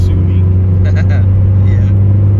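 Turbocharged 2AZ-FE engine in a swapped Subaru BRZ with a Borla axle-back exhaust and pseudo midpipe, giving a steady, deep droning exhaust note from inside the car, loud and continuous, with faint voices underneath.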